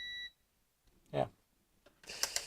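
Short electronic beep from a programmer tool signalling an STM8 microcontroller chip unlock, a bright tonal burst near the end after a brief mid-range click or sound, in an otherwise quiet room.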